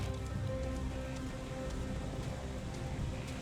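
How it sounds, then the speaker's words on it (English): Steady rain in Final Fantasy XIV pours down continuously, a dense even hiss with scattered drops pattering on a surface, no voices. "No, the rain doesn't stop."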